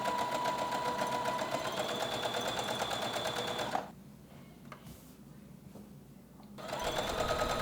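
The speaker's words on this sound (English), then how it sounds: "now I'm finishing those gathering stitches, this time on the top" A sewing machine runs fast, sewing gathering stitches on a linen house dress with a dense, steady mechanical whir. It pauses briefly to a quieter hum, then resumes close up.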